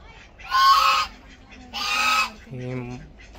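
Loud, close duck calls sound out as three separate honking quacks, two harsh bursts followed by a lower, more nasal one, with short pauses between them.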